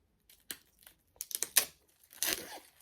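Plastic shrink wrap crinkles and tears as it is peeled off a vinyl record of Depeche Mode's 'Speak & Spell', coming in several short, close bursts of crackling with brief pauses between them.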